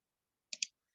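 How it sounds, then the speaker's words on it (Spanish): A computer mouse right-click used while adding a trendline to a spreadsheet chart: two quick, sharp clicks close together, close to the mic and alone in silence. "Le damos en el clic derecho"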